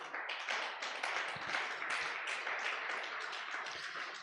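A church congregation applauding together, a dense wash of many hands clapping at a steady level, somewhat distant and soft, with no voices over it.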